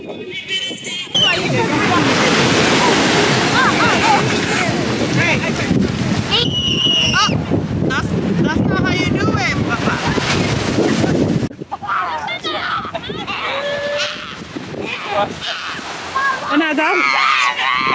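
Ocean waves breaking and sloshing on a summer beach, a loud, continuous wash with heavy wind buffeting the microphone and people talking over it throughout.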